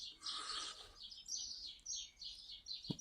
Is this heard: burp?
no